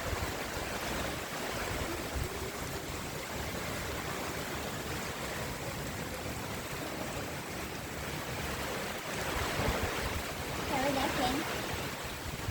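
Cyclone Remal lashing coastal Bangladesh with wind, heavy rain and churning water, a steady broadband roar of gusts and water that swells slightly near the end, with no voices clearly audible.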